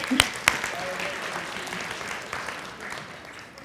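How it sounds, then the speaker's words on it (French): A congregation at a Sunday church service breaks into applause: a few sharp, close claps at the start, then a dense, even patter of clapping that slowly thins out. "On peut l'applaudir."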